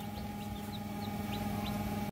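Newly hatched chicks inside an egg incubator, giving faint high peeps at a steady pace over a constant loud machine hum, with no voices.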